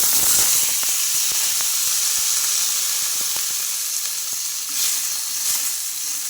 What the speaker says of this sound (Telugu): కడాయి అయితే పెట్టేసుకొని అందులోకి ఒక స్పూన్ ఆయిల్ అయితే వేసుకున్నానండి ఇంకా పచ్చిమిర్చి టమోటా అయితే వేసుకోవాలి